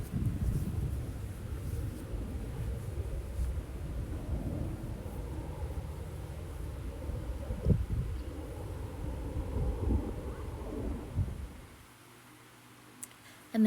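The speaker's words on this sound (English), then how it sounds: "The wind's coming in." Wind blows outdoors in Cadence Central Park, a steady low rumble buffeting the microphone that fades near the end.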